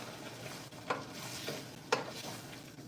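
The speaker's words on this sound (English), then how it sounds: "it's roasting on the bottom of this pan here" Pork spareribs and water sizzle gently on the bottom of a pan for spicy Khmer soup, a soft steady hiss broken by two brief scraping stirs.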